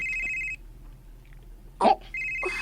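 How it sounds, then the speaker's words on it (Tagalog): A cellphone rings indoors with a bright electronic tone in two bursts separated by a pause, and a short bump of handling noise sits between them. "Oh, hala akong cellphone."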